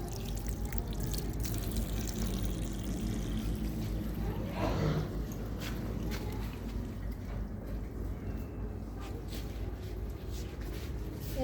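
Vegetables being washed with water, a continuous close pouring and splashing wash throughout.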